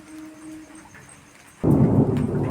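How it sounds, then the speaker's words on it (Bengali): Thunder during a night rainstorm: quiet rain, then a sudden loud, close rumbling crack that rolls on for about a second, with no voices. "এই দেখ মেঘ ডাকছে, শুনতে পাচ্ছ?"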